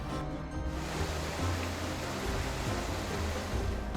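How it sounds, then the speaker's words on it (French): The Ruisseau des Rochers, a stream in the Marais-Léon-Provancher nature reserve, rushes and gurgles steadily with a dense, continuous wash of water noise close by. "Alors ici, nous sommes au ruisseau des Rochers."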